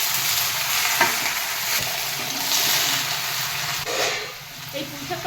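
Taro and spices sizzle loudly in a pan, a constant frying hiss layered with the scraping thuds of stirring, briefly dipping in level near the end.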